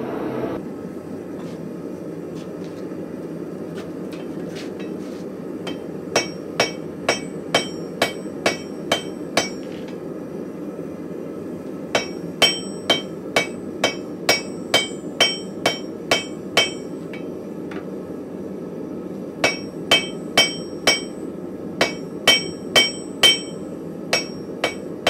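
A 2.5 lb blacksmith's ball peen hammer head strikes an anvil in quick bursts of ringing metallic blows, several runs of about ten hits each separated by short pauses, loud and close with no talk.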